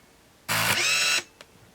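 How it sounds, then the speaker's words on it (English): A Canon Sure Shot Supreme 35mm point-and-shoot film camera releases its shutter. It gives one close, whirring mechanical buzz of about a second as the motor winds, then a tiny click afterward, with no voice. "I'm going to just push down the shutter button and point it off that direction."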